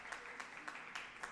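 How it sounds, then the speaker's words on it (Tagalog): A church congregation applauds during a crusade service in Toronto, with about five evenly spaced bursts of clapping that sound fairly distant and moderate in loudness. "Pumalakpak muna tayo sa ating pinakamahal na Panginoon."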